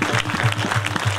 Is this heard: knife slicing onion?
no